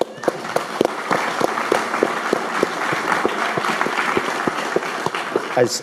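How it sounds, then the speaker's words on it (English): An audience of Fidelity investors applauds, with distinct individual claps standing out in a steady, even patter that holds for several seconds at moderate distance. "give yourselves a round of applause"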